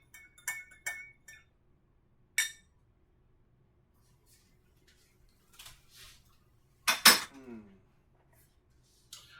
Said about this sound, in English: I'll get a spoon, stir it around a little bit